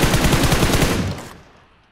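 Rapid automatic AK rifle fire in the mobile battle-royale game PUBG Mobile, a loud close burst of evenly spaced shots lasting about a second, then cutting off and fading away.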